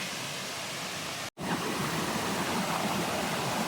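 Opossum Creek Trail Falls in Oconee County, South Carolina, a close, loud, continuous rush of falling water with only a momentary break in the sound.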